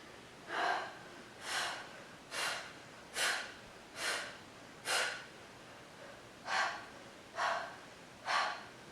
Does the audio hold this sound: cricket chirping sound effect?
no